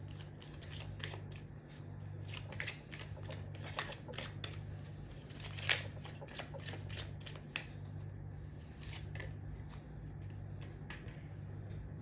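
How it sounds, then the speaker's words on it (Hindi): Tarot cards are shuffled in a quiet room, giving soft, quick riffling and flicking bursts that repeat irregularly over a low steady hum. "मैं जब तक कार्ड शफल कर रही हूँ"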